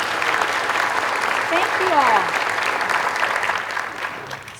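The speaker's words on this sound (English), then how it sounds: "Let's give them all a round of applause." Audience applause at a lunch panel discussion on growing talent, a sustained clapping wash from a room of listeners while a voice briefly thanks them over it.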